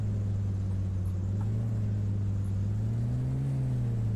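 A car driving in the survival video game Survival: Lost Way, a steady low engine rumble and whir that holds throughout with a slight rise in pitch near the end, with no speech.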